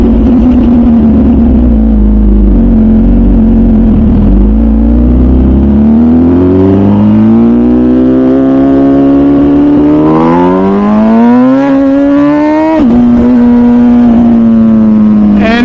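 An MV Agusta motorcycle engine revs and accelerates loud and close, its pitch climbing steadily through the gears in long sweeps, with a brief drop at a shift before rising again.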